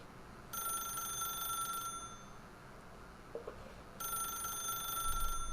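Telephone ringing in two bursts of electronic trilling tones, separated by a quiet gap, moderately loud and close with no talk over it.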